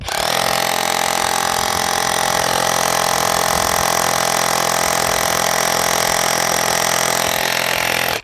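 A battery-powered rotary hammer drill runs continuously at close range, a loud, steady buzzing whine that holds for about eight seconds before cutting off abruptly.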